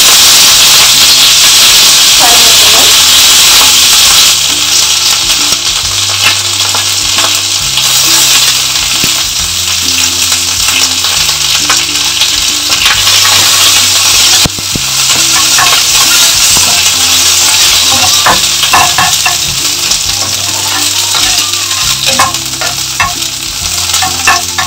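Fenugreek seeds and dried red chillies fry in hot oil, a loud, close, steady sizzle and hiss with frequent crackles and pops, while a low tonal hum runs underneath throughout.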